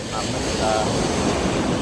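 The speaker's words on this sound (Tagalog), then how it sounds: "Lalaki ng ating alon" Ocean waves at a fish terminal in Tanza, Cavite: a steady wash of surf mixed with gusty wind buffeting the microphone, continuous and moderately loud with no clear breaks.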